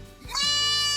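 A goat gives one drawn-out, wavering bleat that swells after a brief lead-in and holds steady to the end, close and clear with no voices.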